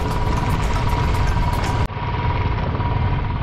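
A motorcycle engine labours in first gear on the climb up Khardung La, a steady low idling chug with a constant mechanical hum. Partway through, a sudden dip in level leaves the duller throb running on.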